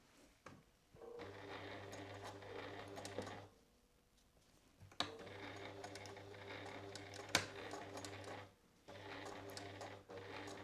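A sewing machine stitches a seam along the edge of a jacket in two sustained runs of rapid, even mechanical whirring, separated by pauses with small handling clicks.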